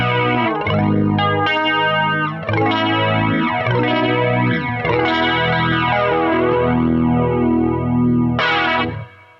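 Electric guitar chords through a flanger pedal, an Electric Mistress or Longamp Roxanne, with a sweeping, jet-like swirl and a synthetic underwater tone, played loud and continuously before a final strummed chord, no voices.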